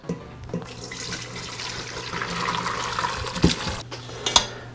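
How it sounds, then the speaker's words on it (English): Braising liquid from Marsala-braised short ribs is poured through a strainer, giving a steady splashing, trickling flow that swells toward the end, with a few close clinks of the utensils. "Now we'll strain our braising liquid."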